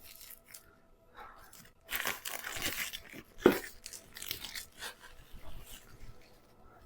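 Stickers peel off a Steelbook case in a few short tearing rips, close and fairly quiet, with one sharp crinkle midway and quiet pauses between pulls.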